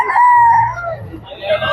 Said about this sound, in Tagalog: Ayan o, may mga manok pa dito.